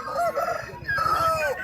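A Nellore rooster crows at a busy poultry market, a single close, loud, wavering cock-a-doodle-doo call lasting under two seconds.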